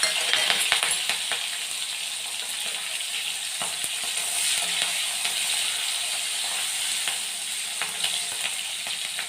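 Chopped chillies sizzle and fry in hot peanut oil with cumin seeds and asafoetida, a steady crackling hiss with scattered sharp pops and occasional stirring clinks, continuous and close throughout.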